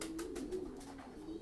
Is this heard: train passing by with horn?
no